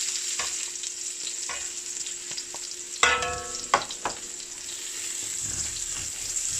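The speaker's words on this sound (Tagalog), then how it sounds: "So, igigisa na natin yung bawang." Garlic sautés in a little oil in a pan, giving a quiet constant sizzle with a few light stirring scrapes and a sharper clatter of the utensil partway through.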